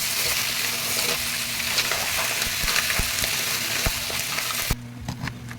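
Mussels stirred in bubbling coconut milk in a pan for ginataang tahong, a steady close frying hiss with scraping stirs and soft clacks of shells, the hiss dropping away sharply near the end.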